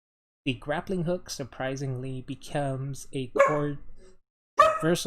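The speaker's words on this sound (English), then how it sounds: "Sorry about the barking, my dog went a little crazy" Someone talks steadily indoors, and then a dog barks loudly once or twice at close range as he pauses.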